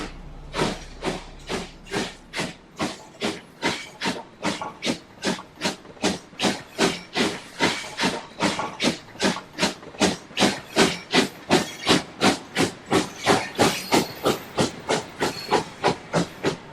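A model coal train on a computer-controlled layout, sounding as rhythmic steam-locomotive chuffs: a long, steady series of sharp hissing puffs that gradually quicken and grow louder, with no talk.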